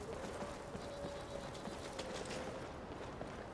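Horses fight in the video game Skyrim, with galloping hoof clip-clops and scuffling under steady game noise and a faint tonal whine, fairly quiet overall.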